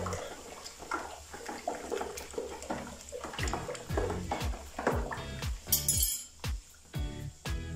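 Water running and splashing while a bathroom sink is cleaned with baking soda and vinegar, a continuous watery gush with clinks and knocks against the basin, fairly close and without talk.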